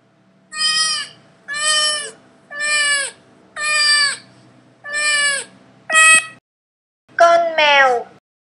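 A cat meows in a regular series of six short, evenly spaced calls, close and clear, followed after a pause by a longer, wavering final meow.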